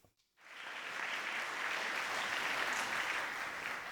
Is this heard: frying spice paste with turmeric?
no